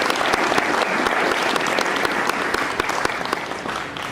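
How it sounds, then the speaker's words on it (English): An audience at a speech gives sustained, dense applause, many hands clapping steadily at moderate volume from start to finish. "Really a pleasure to give you a hand of applause."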